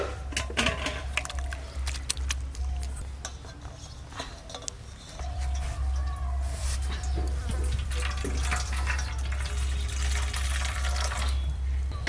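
Squeezed carrot juice is strained, with a soft liquid trickle and splashing over a steady low hum and faint buzzing in the room.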